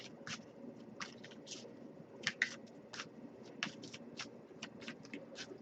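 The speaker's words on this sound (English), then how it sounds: "I'll give a few more shuffles, just like we did for your side" An oracle card deck being shuffled in repeated short bursts of soft papery riffling, close and quiet, with brief pauses between shuffles.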